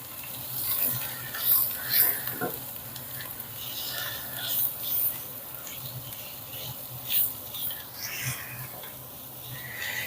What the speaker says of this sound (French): On va venir les enrober, on va bien mélanger, les enrober de farine.